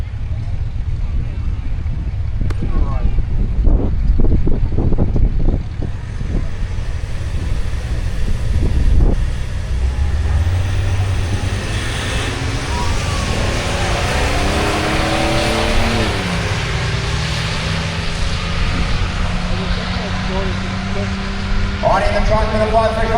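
Two 4WDs, a GU Patrol Shorty and a Triton, launch in a drag race at Benaraby, engines revving and roaring past at close range amid wind buffeting, with a commentator talking over the steady motor noise throughout.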